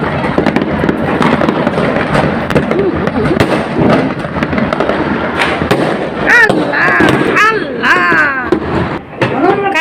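New Year fireworks going off in a Bangladeshi neighbourhood, dense loud crackling and popping bursts with whistling rockets, continuous and overlapping, with voices audible among them.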